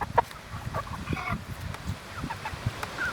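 Cornish Cross chickens cluck in short, scattered calls over a low, busy background of rustling and movement, with no one speaking.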